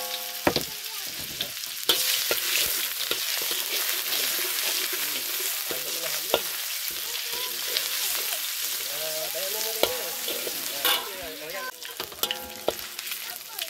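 Steady, dense sizzling of garlic, shallots and ginger frying in hot oil in a wok, with occasional scraping and stirring clatter throughout.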